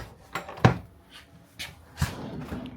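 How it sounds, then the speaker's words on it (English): Drawers in a brand new Class A motorhome slide open and shut, a few distinct knocks and thuds spaced over a couple of seconds, close by and fairly quiet with no talking. "Couple of drawers here."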